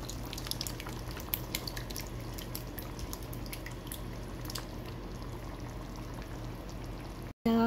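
Tomato puree blended with ginger and garlic paste is poured into a pan of mutton, giving a soft, continuous pour with light drips, then a short cut near the end.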